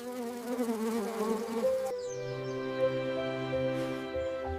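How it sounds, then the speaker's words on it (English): A bee buzzes in a green garden, a steady, close droning hum that holds for several seconds with a slight shift in pitch partway through. "The bee is busy today."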